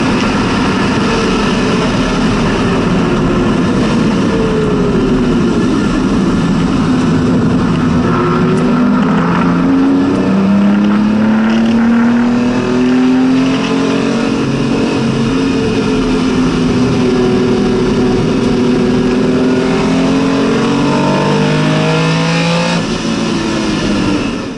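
Porsche 914/6 GT race car on a track, its warmed-up flat-six engine revving loudly and continuously up and down through gears at close range, with no talk.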